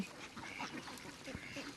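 Ducks at a pond quack in short, busy bursts, several birds close together and fairly faint against a steady background hiss.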